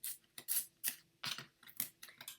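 An X-acto knife shaves and scrapes at cardboard, peeling up its layers, in a series of short, close, crisp scraping strokes separated by brief pauses.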